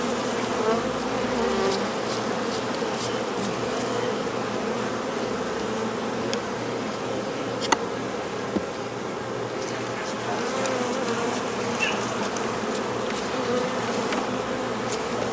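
Honey bees hum steadily around open beehives during a drone brood mite check, a dense continuous buzz with scattered close fly-bys, no talking.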